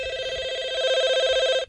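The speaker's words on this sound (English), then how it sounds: "I hear it ringing." Telephone ringing with an incoming call during a gospel music program, one long loud electronic ring tone that cuts off abruptly near the end.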